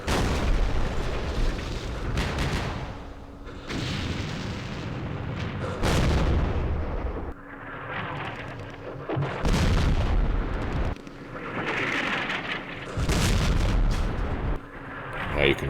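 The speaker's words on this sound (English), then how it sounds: "Artillery." Repeated artillery booms from the Vietnam-era war game Campaign Series Vietnam, set at Dien Bien Phu: several loud, heavy blasts in irregular succession, each with a rumbling tail, and no voices over them.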